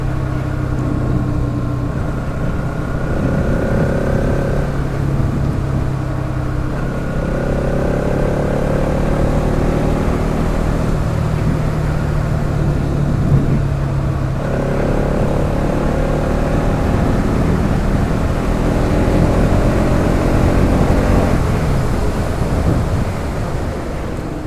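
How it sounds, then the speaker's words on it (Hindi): Motorcycle ridden fast on a road, its engine droning steadily with rising and falling revs, heavily buffeted by wind rushing across the microphone throughout. "वैसे मैंने ना आज बाइक थोड़ी सी भगाई है ना"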